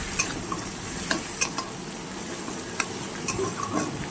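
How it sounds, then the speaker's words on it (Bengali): Spice paste frying and being stirred in a pan over raised heat for a fish curry, a steady sizzle broken by repeated sharp scraping clicks of the spoon, close and alone. "এবার আমি এটাকে ভালো করে একটু নেড়ে নেব।"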